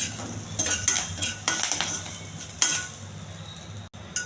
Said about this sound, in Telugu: కరివేపాకు కొంచెం బాగా వేగించాలి.